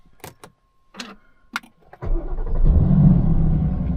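A few clicks and jingles, then an Aston Martin Vantage V8 engine with downpipes fitted cranks and roars to life, settling into a deep, rumbling idle that stays loud.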